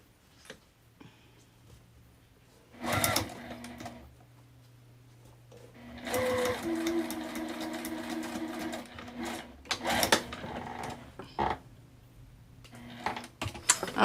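A sewing machine stitches a fabric wristlet in a few separate runs, with bursts of rapid, steady needle chatter broken by short pauses and faint handling clicks, close and moderately loud.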